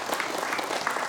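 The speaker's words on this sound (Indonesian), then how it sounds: "Wah, tepuk tangan dulu." Audience applause from a group of women at a community gathering, a steady dense patter of many hands clapping throughout, fairly loud and continuous with no talk over it.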